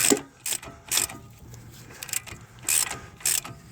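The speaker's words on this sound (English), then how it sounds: "we'll just finish it off with the ratchet while we're still holding this other side over here" A ratchet tightens a bolt while a driver's side CV axle is fitted on a 2008-2013 Nissan Rogue, heard as several short, close bursts of rapid mechanical clicking with brief pauses between strokes.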